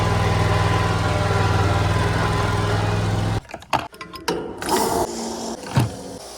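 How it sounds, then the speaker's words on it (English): A zero-turn lawn mower engine idles with a steady low throbbing drone for about three seconds, then cuts off, leaving clunks, rattles and handling noises nearby. "We're doing some mowing today with our zero turn."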